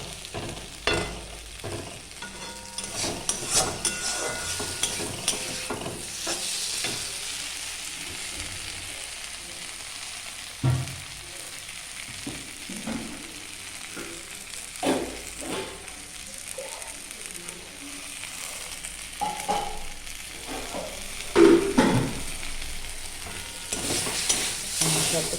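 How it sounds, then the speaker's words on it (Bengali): A paste of tomato, green chili, ginger, sour yogurt, cumin and coriander sizzles and is stirred in a pan beside fried fish, with a steady soft frying hiss broken by scattered scraping clicks of the spoon. "টমেটো, কাঁচা লঙ্কা, আদা, টক দই, জিরে, ধনে সব পেস্ট করে নিচ্ছি, নিয়ে কষিয়ে দিচ্ছি।"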